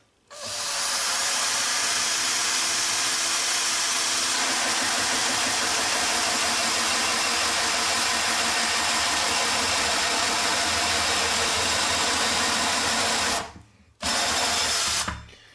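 A power drill with a hole saw grinds loudly and continuously through a kitchen worktop, close up, stopping briefly near the end before restarting.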